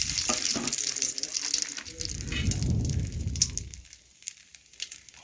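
Whole cumin seeds fry in hot oil in a kadai, giving a bright crackling sizzle that swells as they are stirred, then thins to sparse pops, close and clear.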